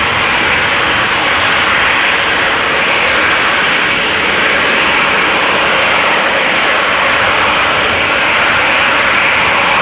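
A Boeing 767 jet airliner at Amsterdam Schiphol Airport gives off a steady, broad engine roar that stays loud and unbroken throughout, with no voices.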